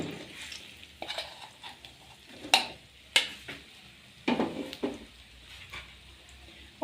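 Soaked, swollen fenugreek seeds being pressed and stirred in ghee in a kadai, giving soft irregular scraping and clinking knocks with a few sharper spoon-on-pan hits, close and moderately quiet with no talking.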